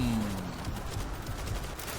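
Gunfire in the zombie shooter game World War Z: a steady rumbling fusillade of muffled shots over a dense noisy backdrop, continuous throughout with no clear pauses.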